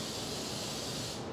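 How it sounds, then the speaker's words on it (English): Cooking spray hisses onto a mason jar lid in one continuous close, loud burst that cuts off at the end. "you also want to give your mason jar lid a good spray"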